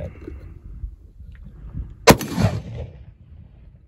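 A single loud, sharp gunshot from a .45 Colt loaded with 35 grains of 3F Swiss black powder and a 300-grain lead flat-point bullet, a boomy crack that rings out briefly over low outdoor rumble.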